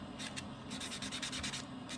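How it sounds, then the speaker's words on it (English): A nail buffer works back and forth over a powder dip nail top coat, making short, soft scratchy rubbing strokes in quick bursts, close and quiet. "just take your buffer and go over it again"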